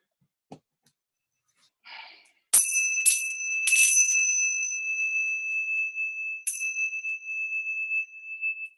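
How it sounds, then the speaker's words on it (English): Tibetan bells made of seven metals are struck several times, each strike ringing out in bright, sustained tones that overlap and hang in the air, following a few soft knocks and a quiet breath. "these are Tibetan bells. They are made of 7 elements"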